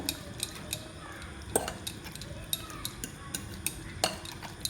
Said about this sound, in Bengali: একটু ভালোভাবে মিশিয়ে নেব